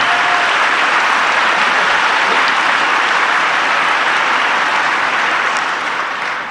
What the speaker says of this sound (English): Look at Elon clapping.